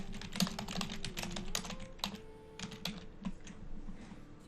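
Rapid close-up clicking of keys on a computer keyboard, an irregular burst of taps with brief pauses, quiet and alone.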